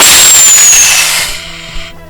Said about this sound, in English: We're gonna do a comparison shot to compare a normal Nerf gun with a modern Nerf gun.